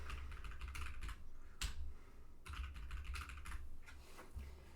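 Fingers tap out quick bursts of keystrokes on a computer keyboard, soft and close, with brief pauses between runs of clicks.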